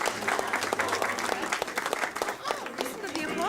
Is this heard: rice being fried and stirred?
no